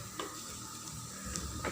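Tamarind and fenugreek seeds stirred together in hot oil for a Kottayam-style masala fish curry, a soft, steady sizzle with brief scraping stirs at the start and end, close and fairly quiet with no talk.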